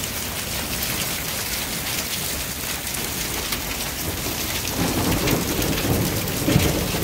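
Heavy rain pours steadily through a severe thunderstorm, with low thunder rumbling in and swelling louder toward the end, close and continuous with no talk.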